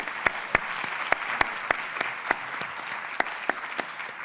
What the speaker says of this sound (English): Please join me on the last round of applause for all the panelists.